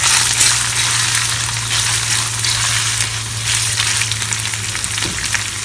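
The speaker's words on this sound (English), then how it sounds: "I'm going to add this paneer. Again going to cook this paneer" Paneer cubes sizzling in a pan for pulao, a loud close continuous frying hiss over a low steady hum.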